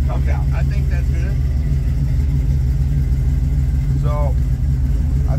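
Chevy C10 V8 with Holley Terminator X EFI idles with a steady, loud, low-pitched rumble throughout, while someone briefly speaks over it.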